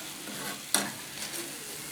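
Potato pirozhki fry in a pan with a steady soft sizzle, broken by one sharp clack of a utensil partway through.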